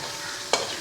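Mushrooms and chicken stir-fry in a pan for hakka chowmein: a brief, steady sizzle with one quick scraping stir, close and moderately loud.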